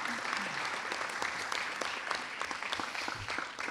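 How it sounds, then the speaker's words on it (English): An audience gives the police and school partnership panel a round of applause, with dense, steady clapping that sounds close and continuous throughout, lightly mixed with crowd noise and no talking over it. "let's give our panelists a round of applause."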